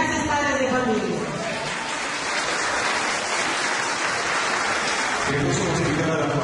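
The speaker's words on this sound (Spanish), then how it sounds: "vamos a verlo y estimularlo con un fuerte aplauso" Families at a kindergarten event in San Pedro de Lloc applaud a child's recitation, a loud, continuous round of clapping mixed with voices.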